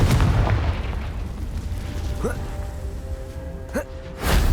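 Confringo explosive spell in Hogwarts Legacy: a heavy boom opens, followed by a lingering rumble, short voiced gasps, and a second sharp burst at the end, all loud and close.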